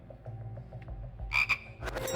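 Frogs croaking as a quiz show sound clip, a few close, clear croaks with a sharp burst partway through and more near the end, with no talking.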